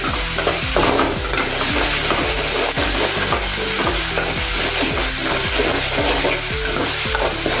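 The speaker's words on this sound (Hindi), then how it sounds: "तेल में भून लिया है हमने। इसमें टमाटर डालेंगे। इसको भी थोड़ा देर हम पकाएंगे, टमाटर को भी।" Tomatoes fry in hot oil with ginger-garlic paste in a pan for a cabbage dish, a steady loud sizzle broken by regular scraping strokes of a stirring spoon, close up with no talking.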